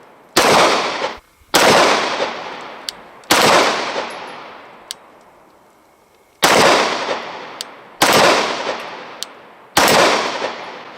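Walther PPQ and Glock 19 pistols fire at a shooting range: six loud, sharp shots spaced a second or two apart, each with a long ringing decay, plus a few faint clicks in between.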